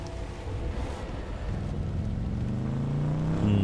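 A steady low drone of a car engine in a Half-Life 2 mod hums throughout, rising slightly in pitch toward the end like a car accelerating, with no talking.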